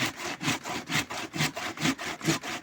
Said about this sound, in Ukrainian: А так будеш пиляти.